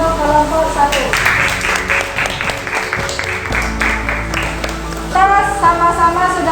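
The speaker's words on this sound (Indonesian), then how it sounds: "Kasih aplaus untuk kelompok 1." Classroom applause for a student group after its presentation: a burst of many hands clapping that runs for several seconds, heard over and between a teacher's voice.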